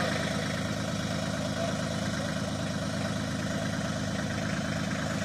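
A tractor engine idles in a steady, continuous drone that holds at an even loudness throughout, with no other sounds standing out.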